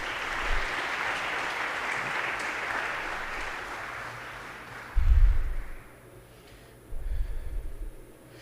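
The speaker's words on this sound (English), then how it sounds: "Please give yourselves a round of applause." Audience at an organ recital applauding, a broad patter of clapping that fades out after about four seconds, followed by a couple of low thumps and breathy noises.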